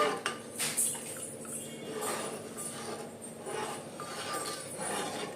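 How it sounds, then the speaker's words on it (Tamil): Flour batter being stirred in a cooking pot for a coconut milk kozhukattai payasam, heard as soft repeated scraping and clinking of a spoon against the pot, steady and close, with no talk. "அதை கிண்டிகிட்டு இருக்கேன் பாருங்கள்"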